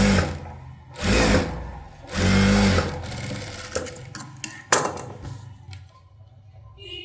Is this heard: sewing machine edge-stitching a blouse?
yes